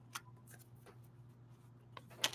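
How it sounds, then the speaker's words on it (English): Tarot cards being shuffled close by, quiet riffling flicks at intervals ending in a louder flurry of shuffling, over a low steady hum. "One more shuffle for Queen of Swords."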